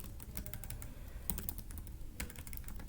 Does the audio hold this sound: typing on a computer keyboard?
yes